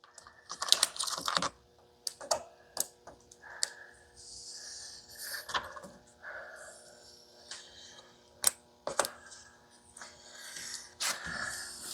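Blade slicing window tint film fitted to a 2020 GMC Yukon, close-up scratchy cutting strokes and short crinkling bursts of film, irregular and fairly quiet, with brief pauses between passes.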